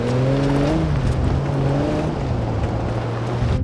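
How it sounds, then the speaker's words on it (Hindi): A Mercedes-Benz SUV engine in GTA 5 revs steadily with rising and falling harmonic tones, a continuous loud drone with gear-like pitch sweeps and no talk. "इंजन का जिस हिसाब से रेव दे रही है गाड़ी"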